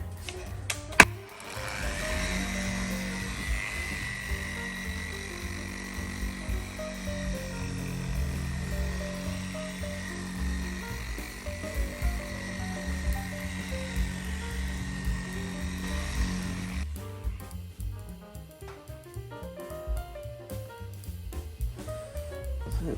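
An electric polisher at medium speed works compound into car paint with a sustained whining drone and faint shifting pitch, then cuts off, leaving quieter rustling and handling sounds.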